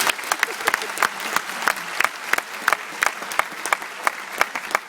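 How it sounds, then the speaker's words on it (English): A crowd at a citizenship ceremony in a convention centre applauds children, with distinct, brisk clapping from many hands that stays loud and even throughout, without voices over it. "So could we have a big round of applause for the children?"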